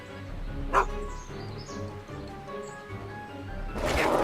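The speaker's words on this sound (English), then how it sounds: "Go away, dog." A dog in the Back to the Future video game barks sharply once, then growls and whimpers softly at close range, followed by rustling and a burst of scuffling noise near the end.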